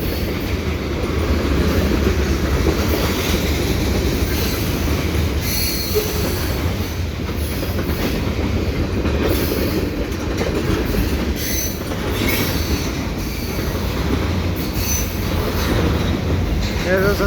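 A Canadian National freight train with three locomotives rolls past close by at Dorval at twilight for a long stretch, wheels rumbling and clacking steadily with occasional squeals, loud throughout.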